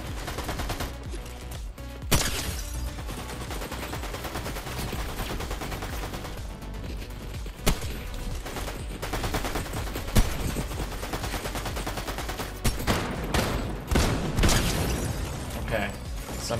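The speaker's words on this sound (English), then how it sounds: "Some players were shooting us." Gunfire crackles through a multiplayer video game as players shoot, with scattered shots and bursts, occasional heavier booms and mechanical clanks over a busy, noisy game background.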